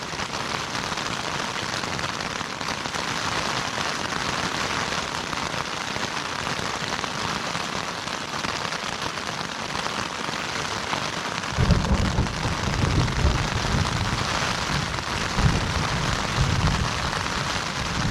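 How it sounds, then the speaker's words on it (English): Steady rain patters across a taut tent surface, a dense hiss of drops that grows heavier and louder partway through, with occasional thicker splashes. "Okay, now it looks like it's rain again."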